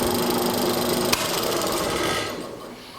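A drill press spins a mortising auger bit in a steady, close, continuous whirring hum with a brief click about a third of the way in, then eases slightly toward the end.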